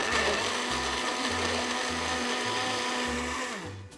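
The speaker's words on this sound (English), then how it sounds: "And then you blitz until blended." A blender whirs steadily as it blitzes Greek yoghurt into a summer treat, a loud continuous motor roar with a grinding edge that slows and fades near the end, with no talking.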